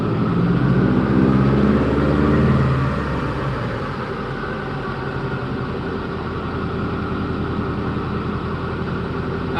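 A car engine idles steadily through its warm-up while the cams wait to go closed loop. The deep, even rumble is louder for the first few seconds, then settles to a slightly softer, constant idle with no talk.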